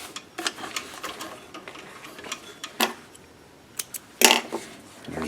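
A sewing machine stitches a cloth face mask with light, uneven ticking and clicks, then a few sharper knocks and one louder clack near the end, with no talking.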